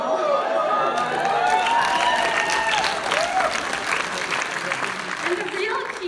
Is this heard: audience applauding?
yes